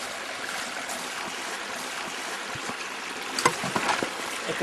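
Water flows steadily in a faint, continuous wash and trickle where the San Juan river meets an artificial lagoon, with a few small splashes toward the end and no voices.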